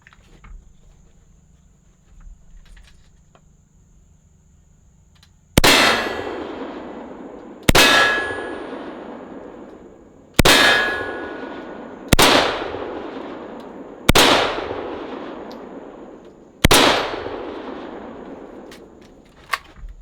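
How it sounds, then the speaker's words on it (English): AK-47 full metal jacket rounds strike a Humvee body armor plate from about 75 to 100 feet away: six sharp, loud metallic clangs at uneven intervals, each ringing out and fading before the next. "We'll see how this does against that Humvee body armor."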